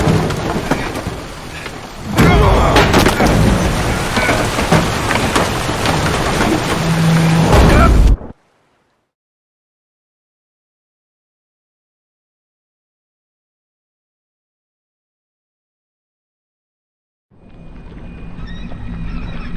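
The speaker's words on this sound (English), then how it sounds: "Didn't bargain for no storm." Storm at sea in The Witcher 3: Hearts of Stone, a loud dense rush of rain, wind and rumbling thunder for about eight seconds, then a sudden cut to silence before the storm noise fades back in.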